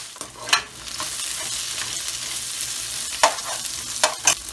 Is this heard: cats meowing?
no